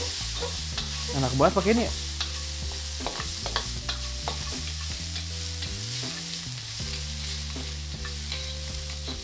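Onions sauté in a seasoned pan, sizzling steadily up close while a utensil stirs and scrapes them in bursts; a person speaks briefly over the frying.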